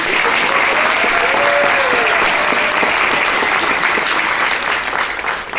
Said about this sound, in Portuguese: Então, uma salva de palmas a ele.